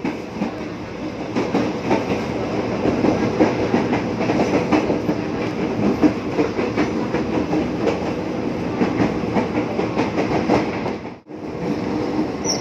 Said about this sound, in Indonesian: ini ada kereta apinya lagi berhenti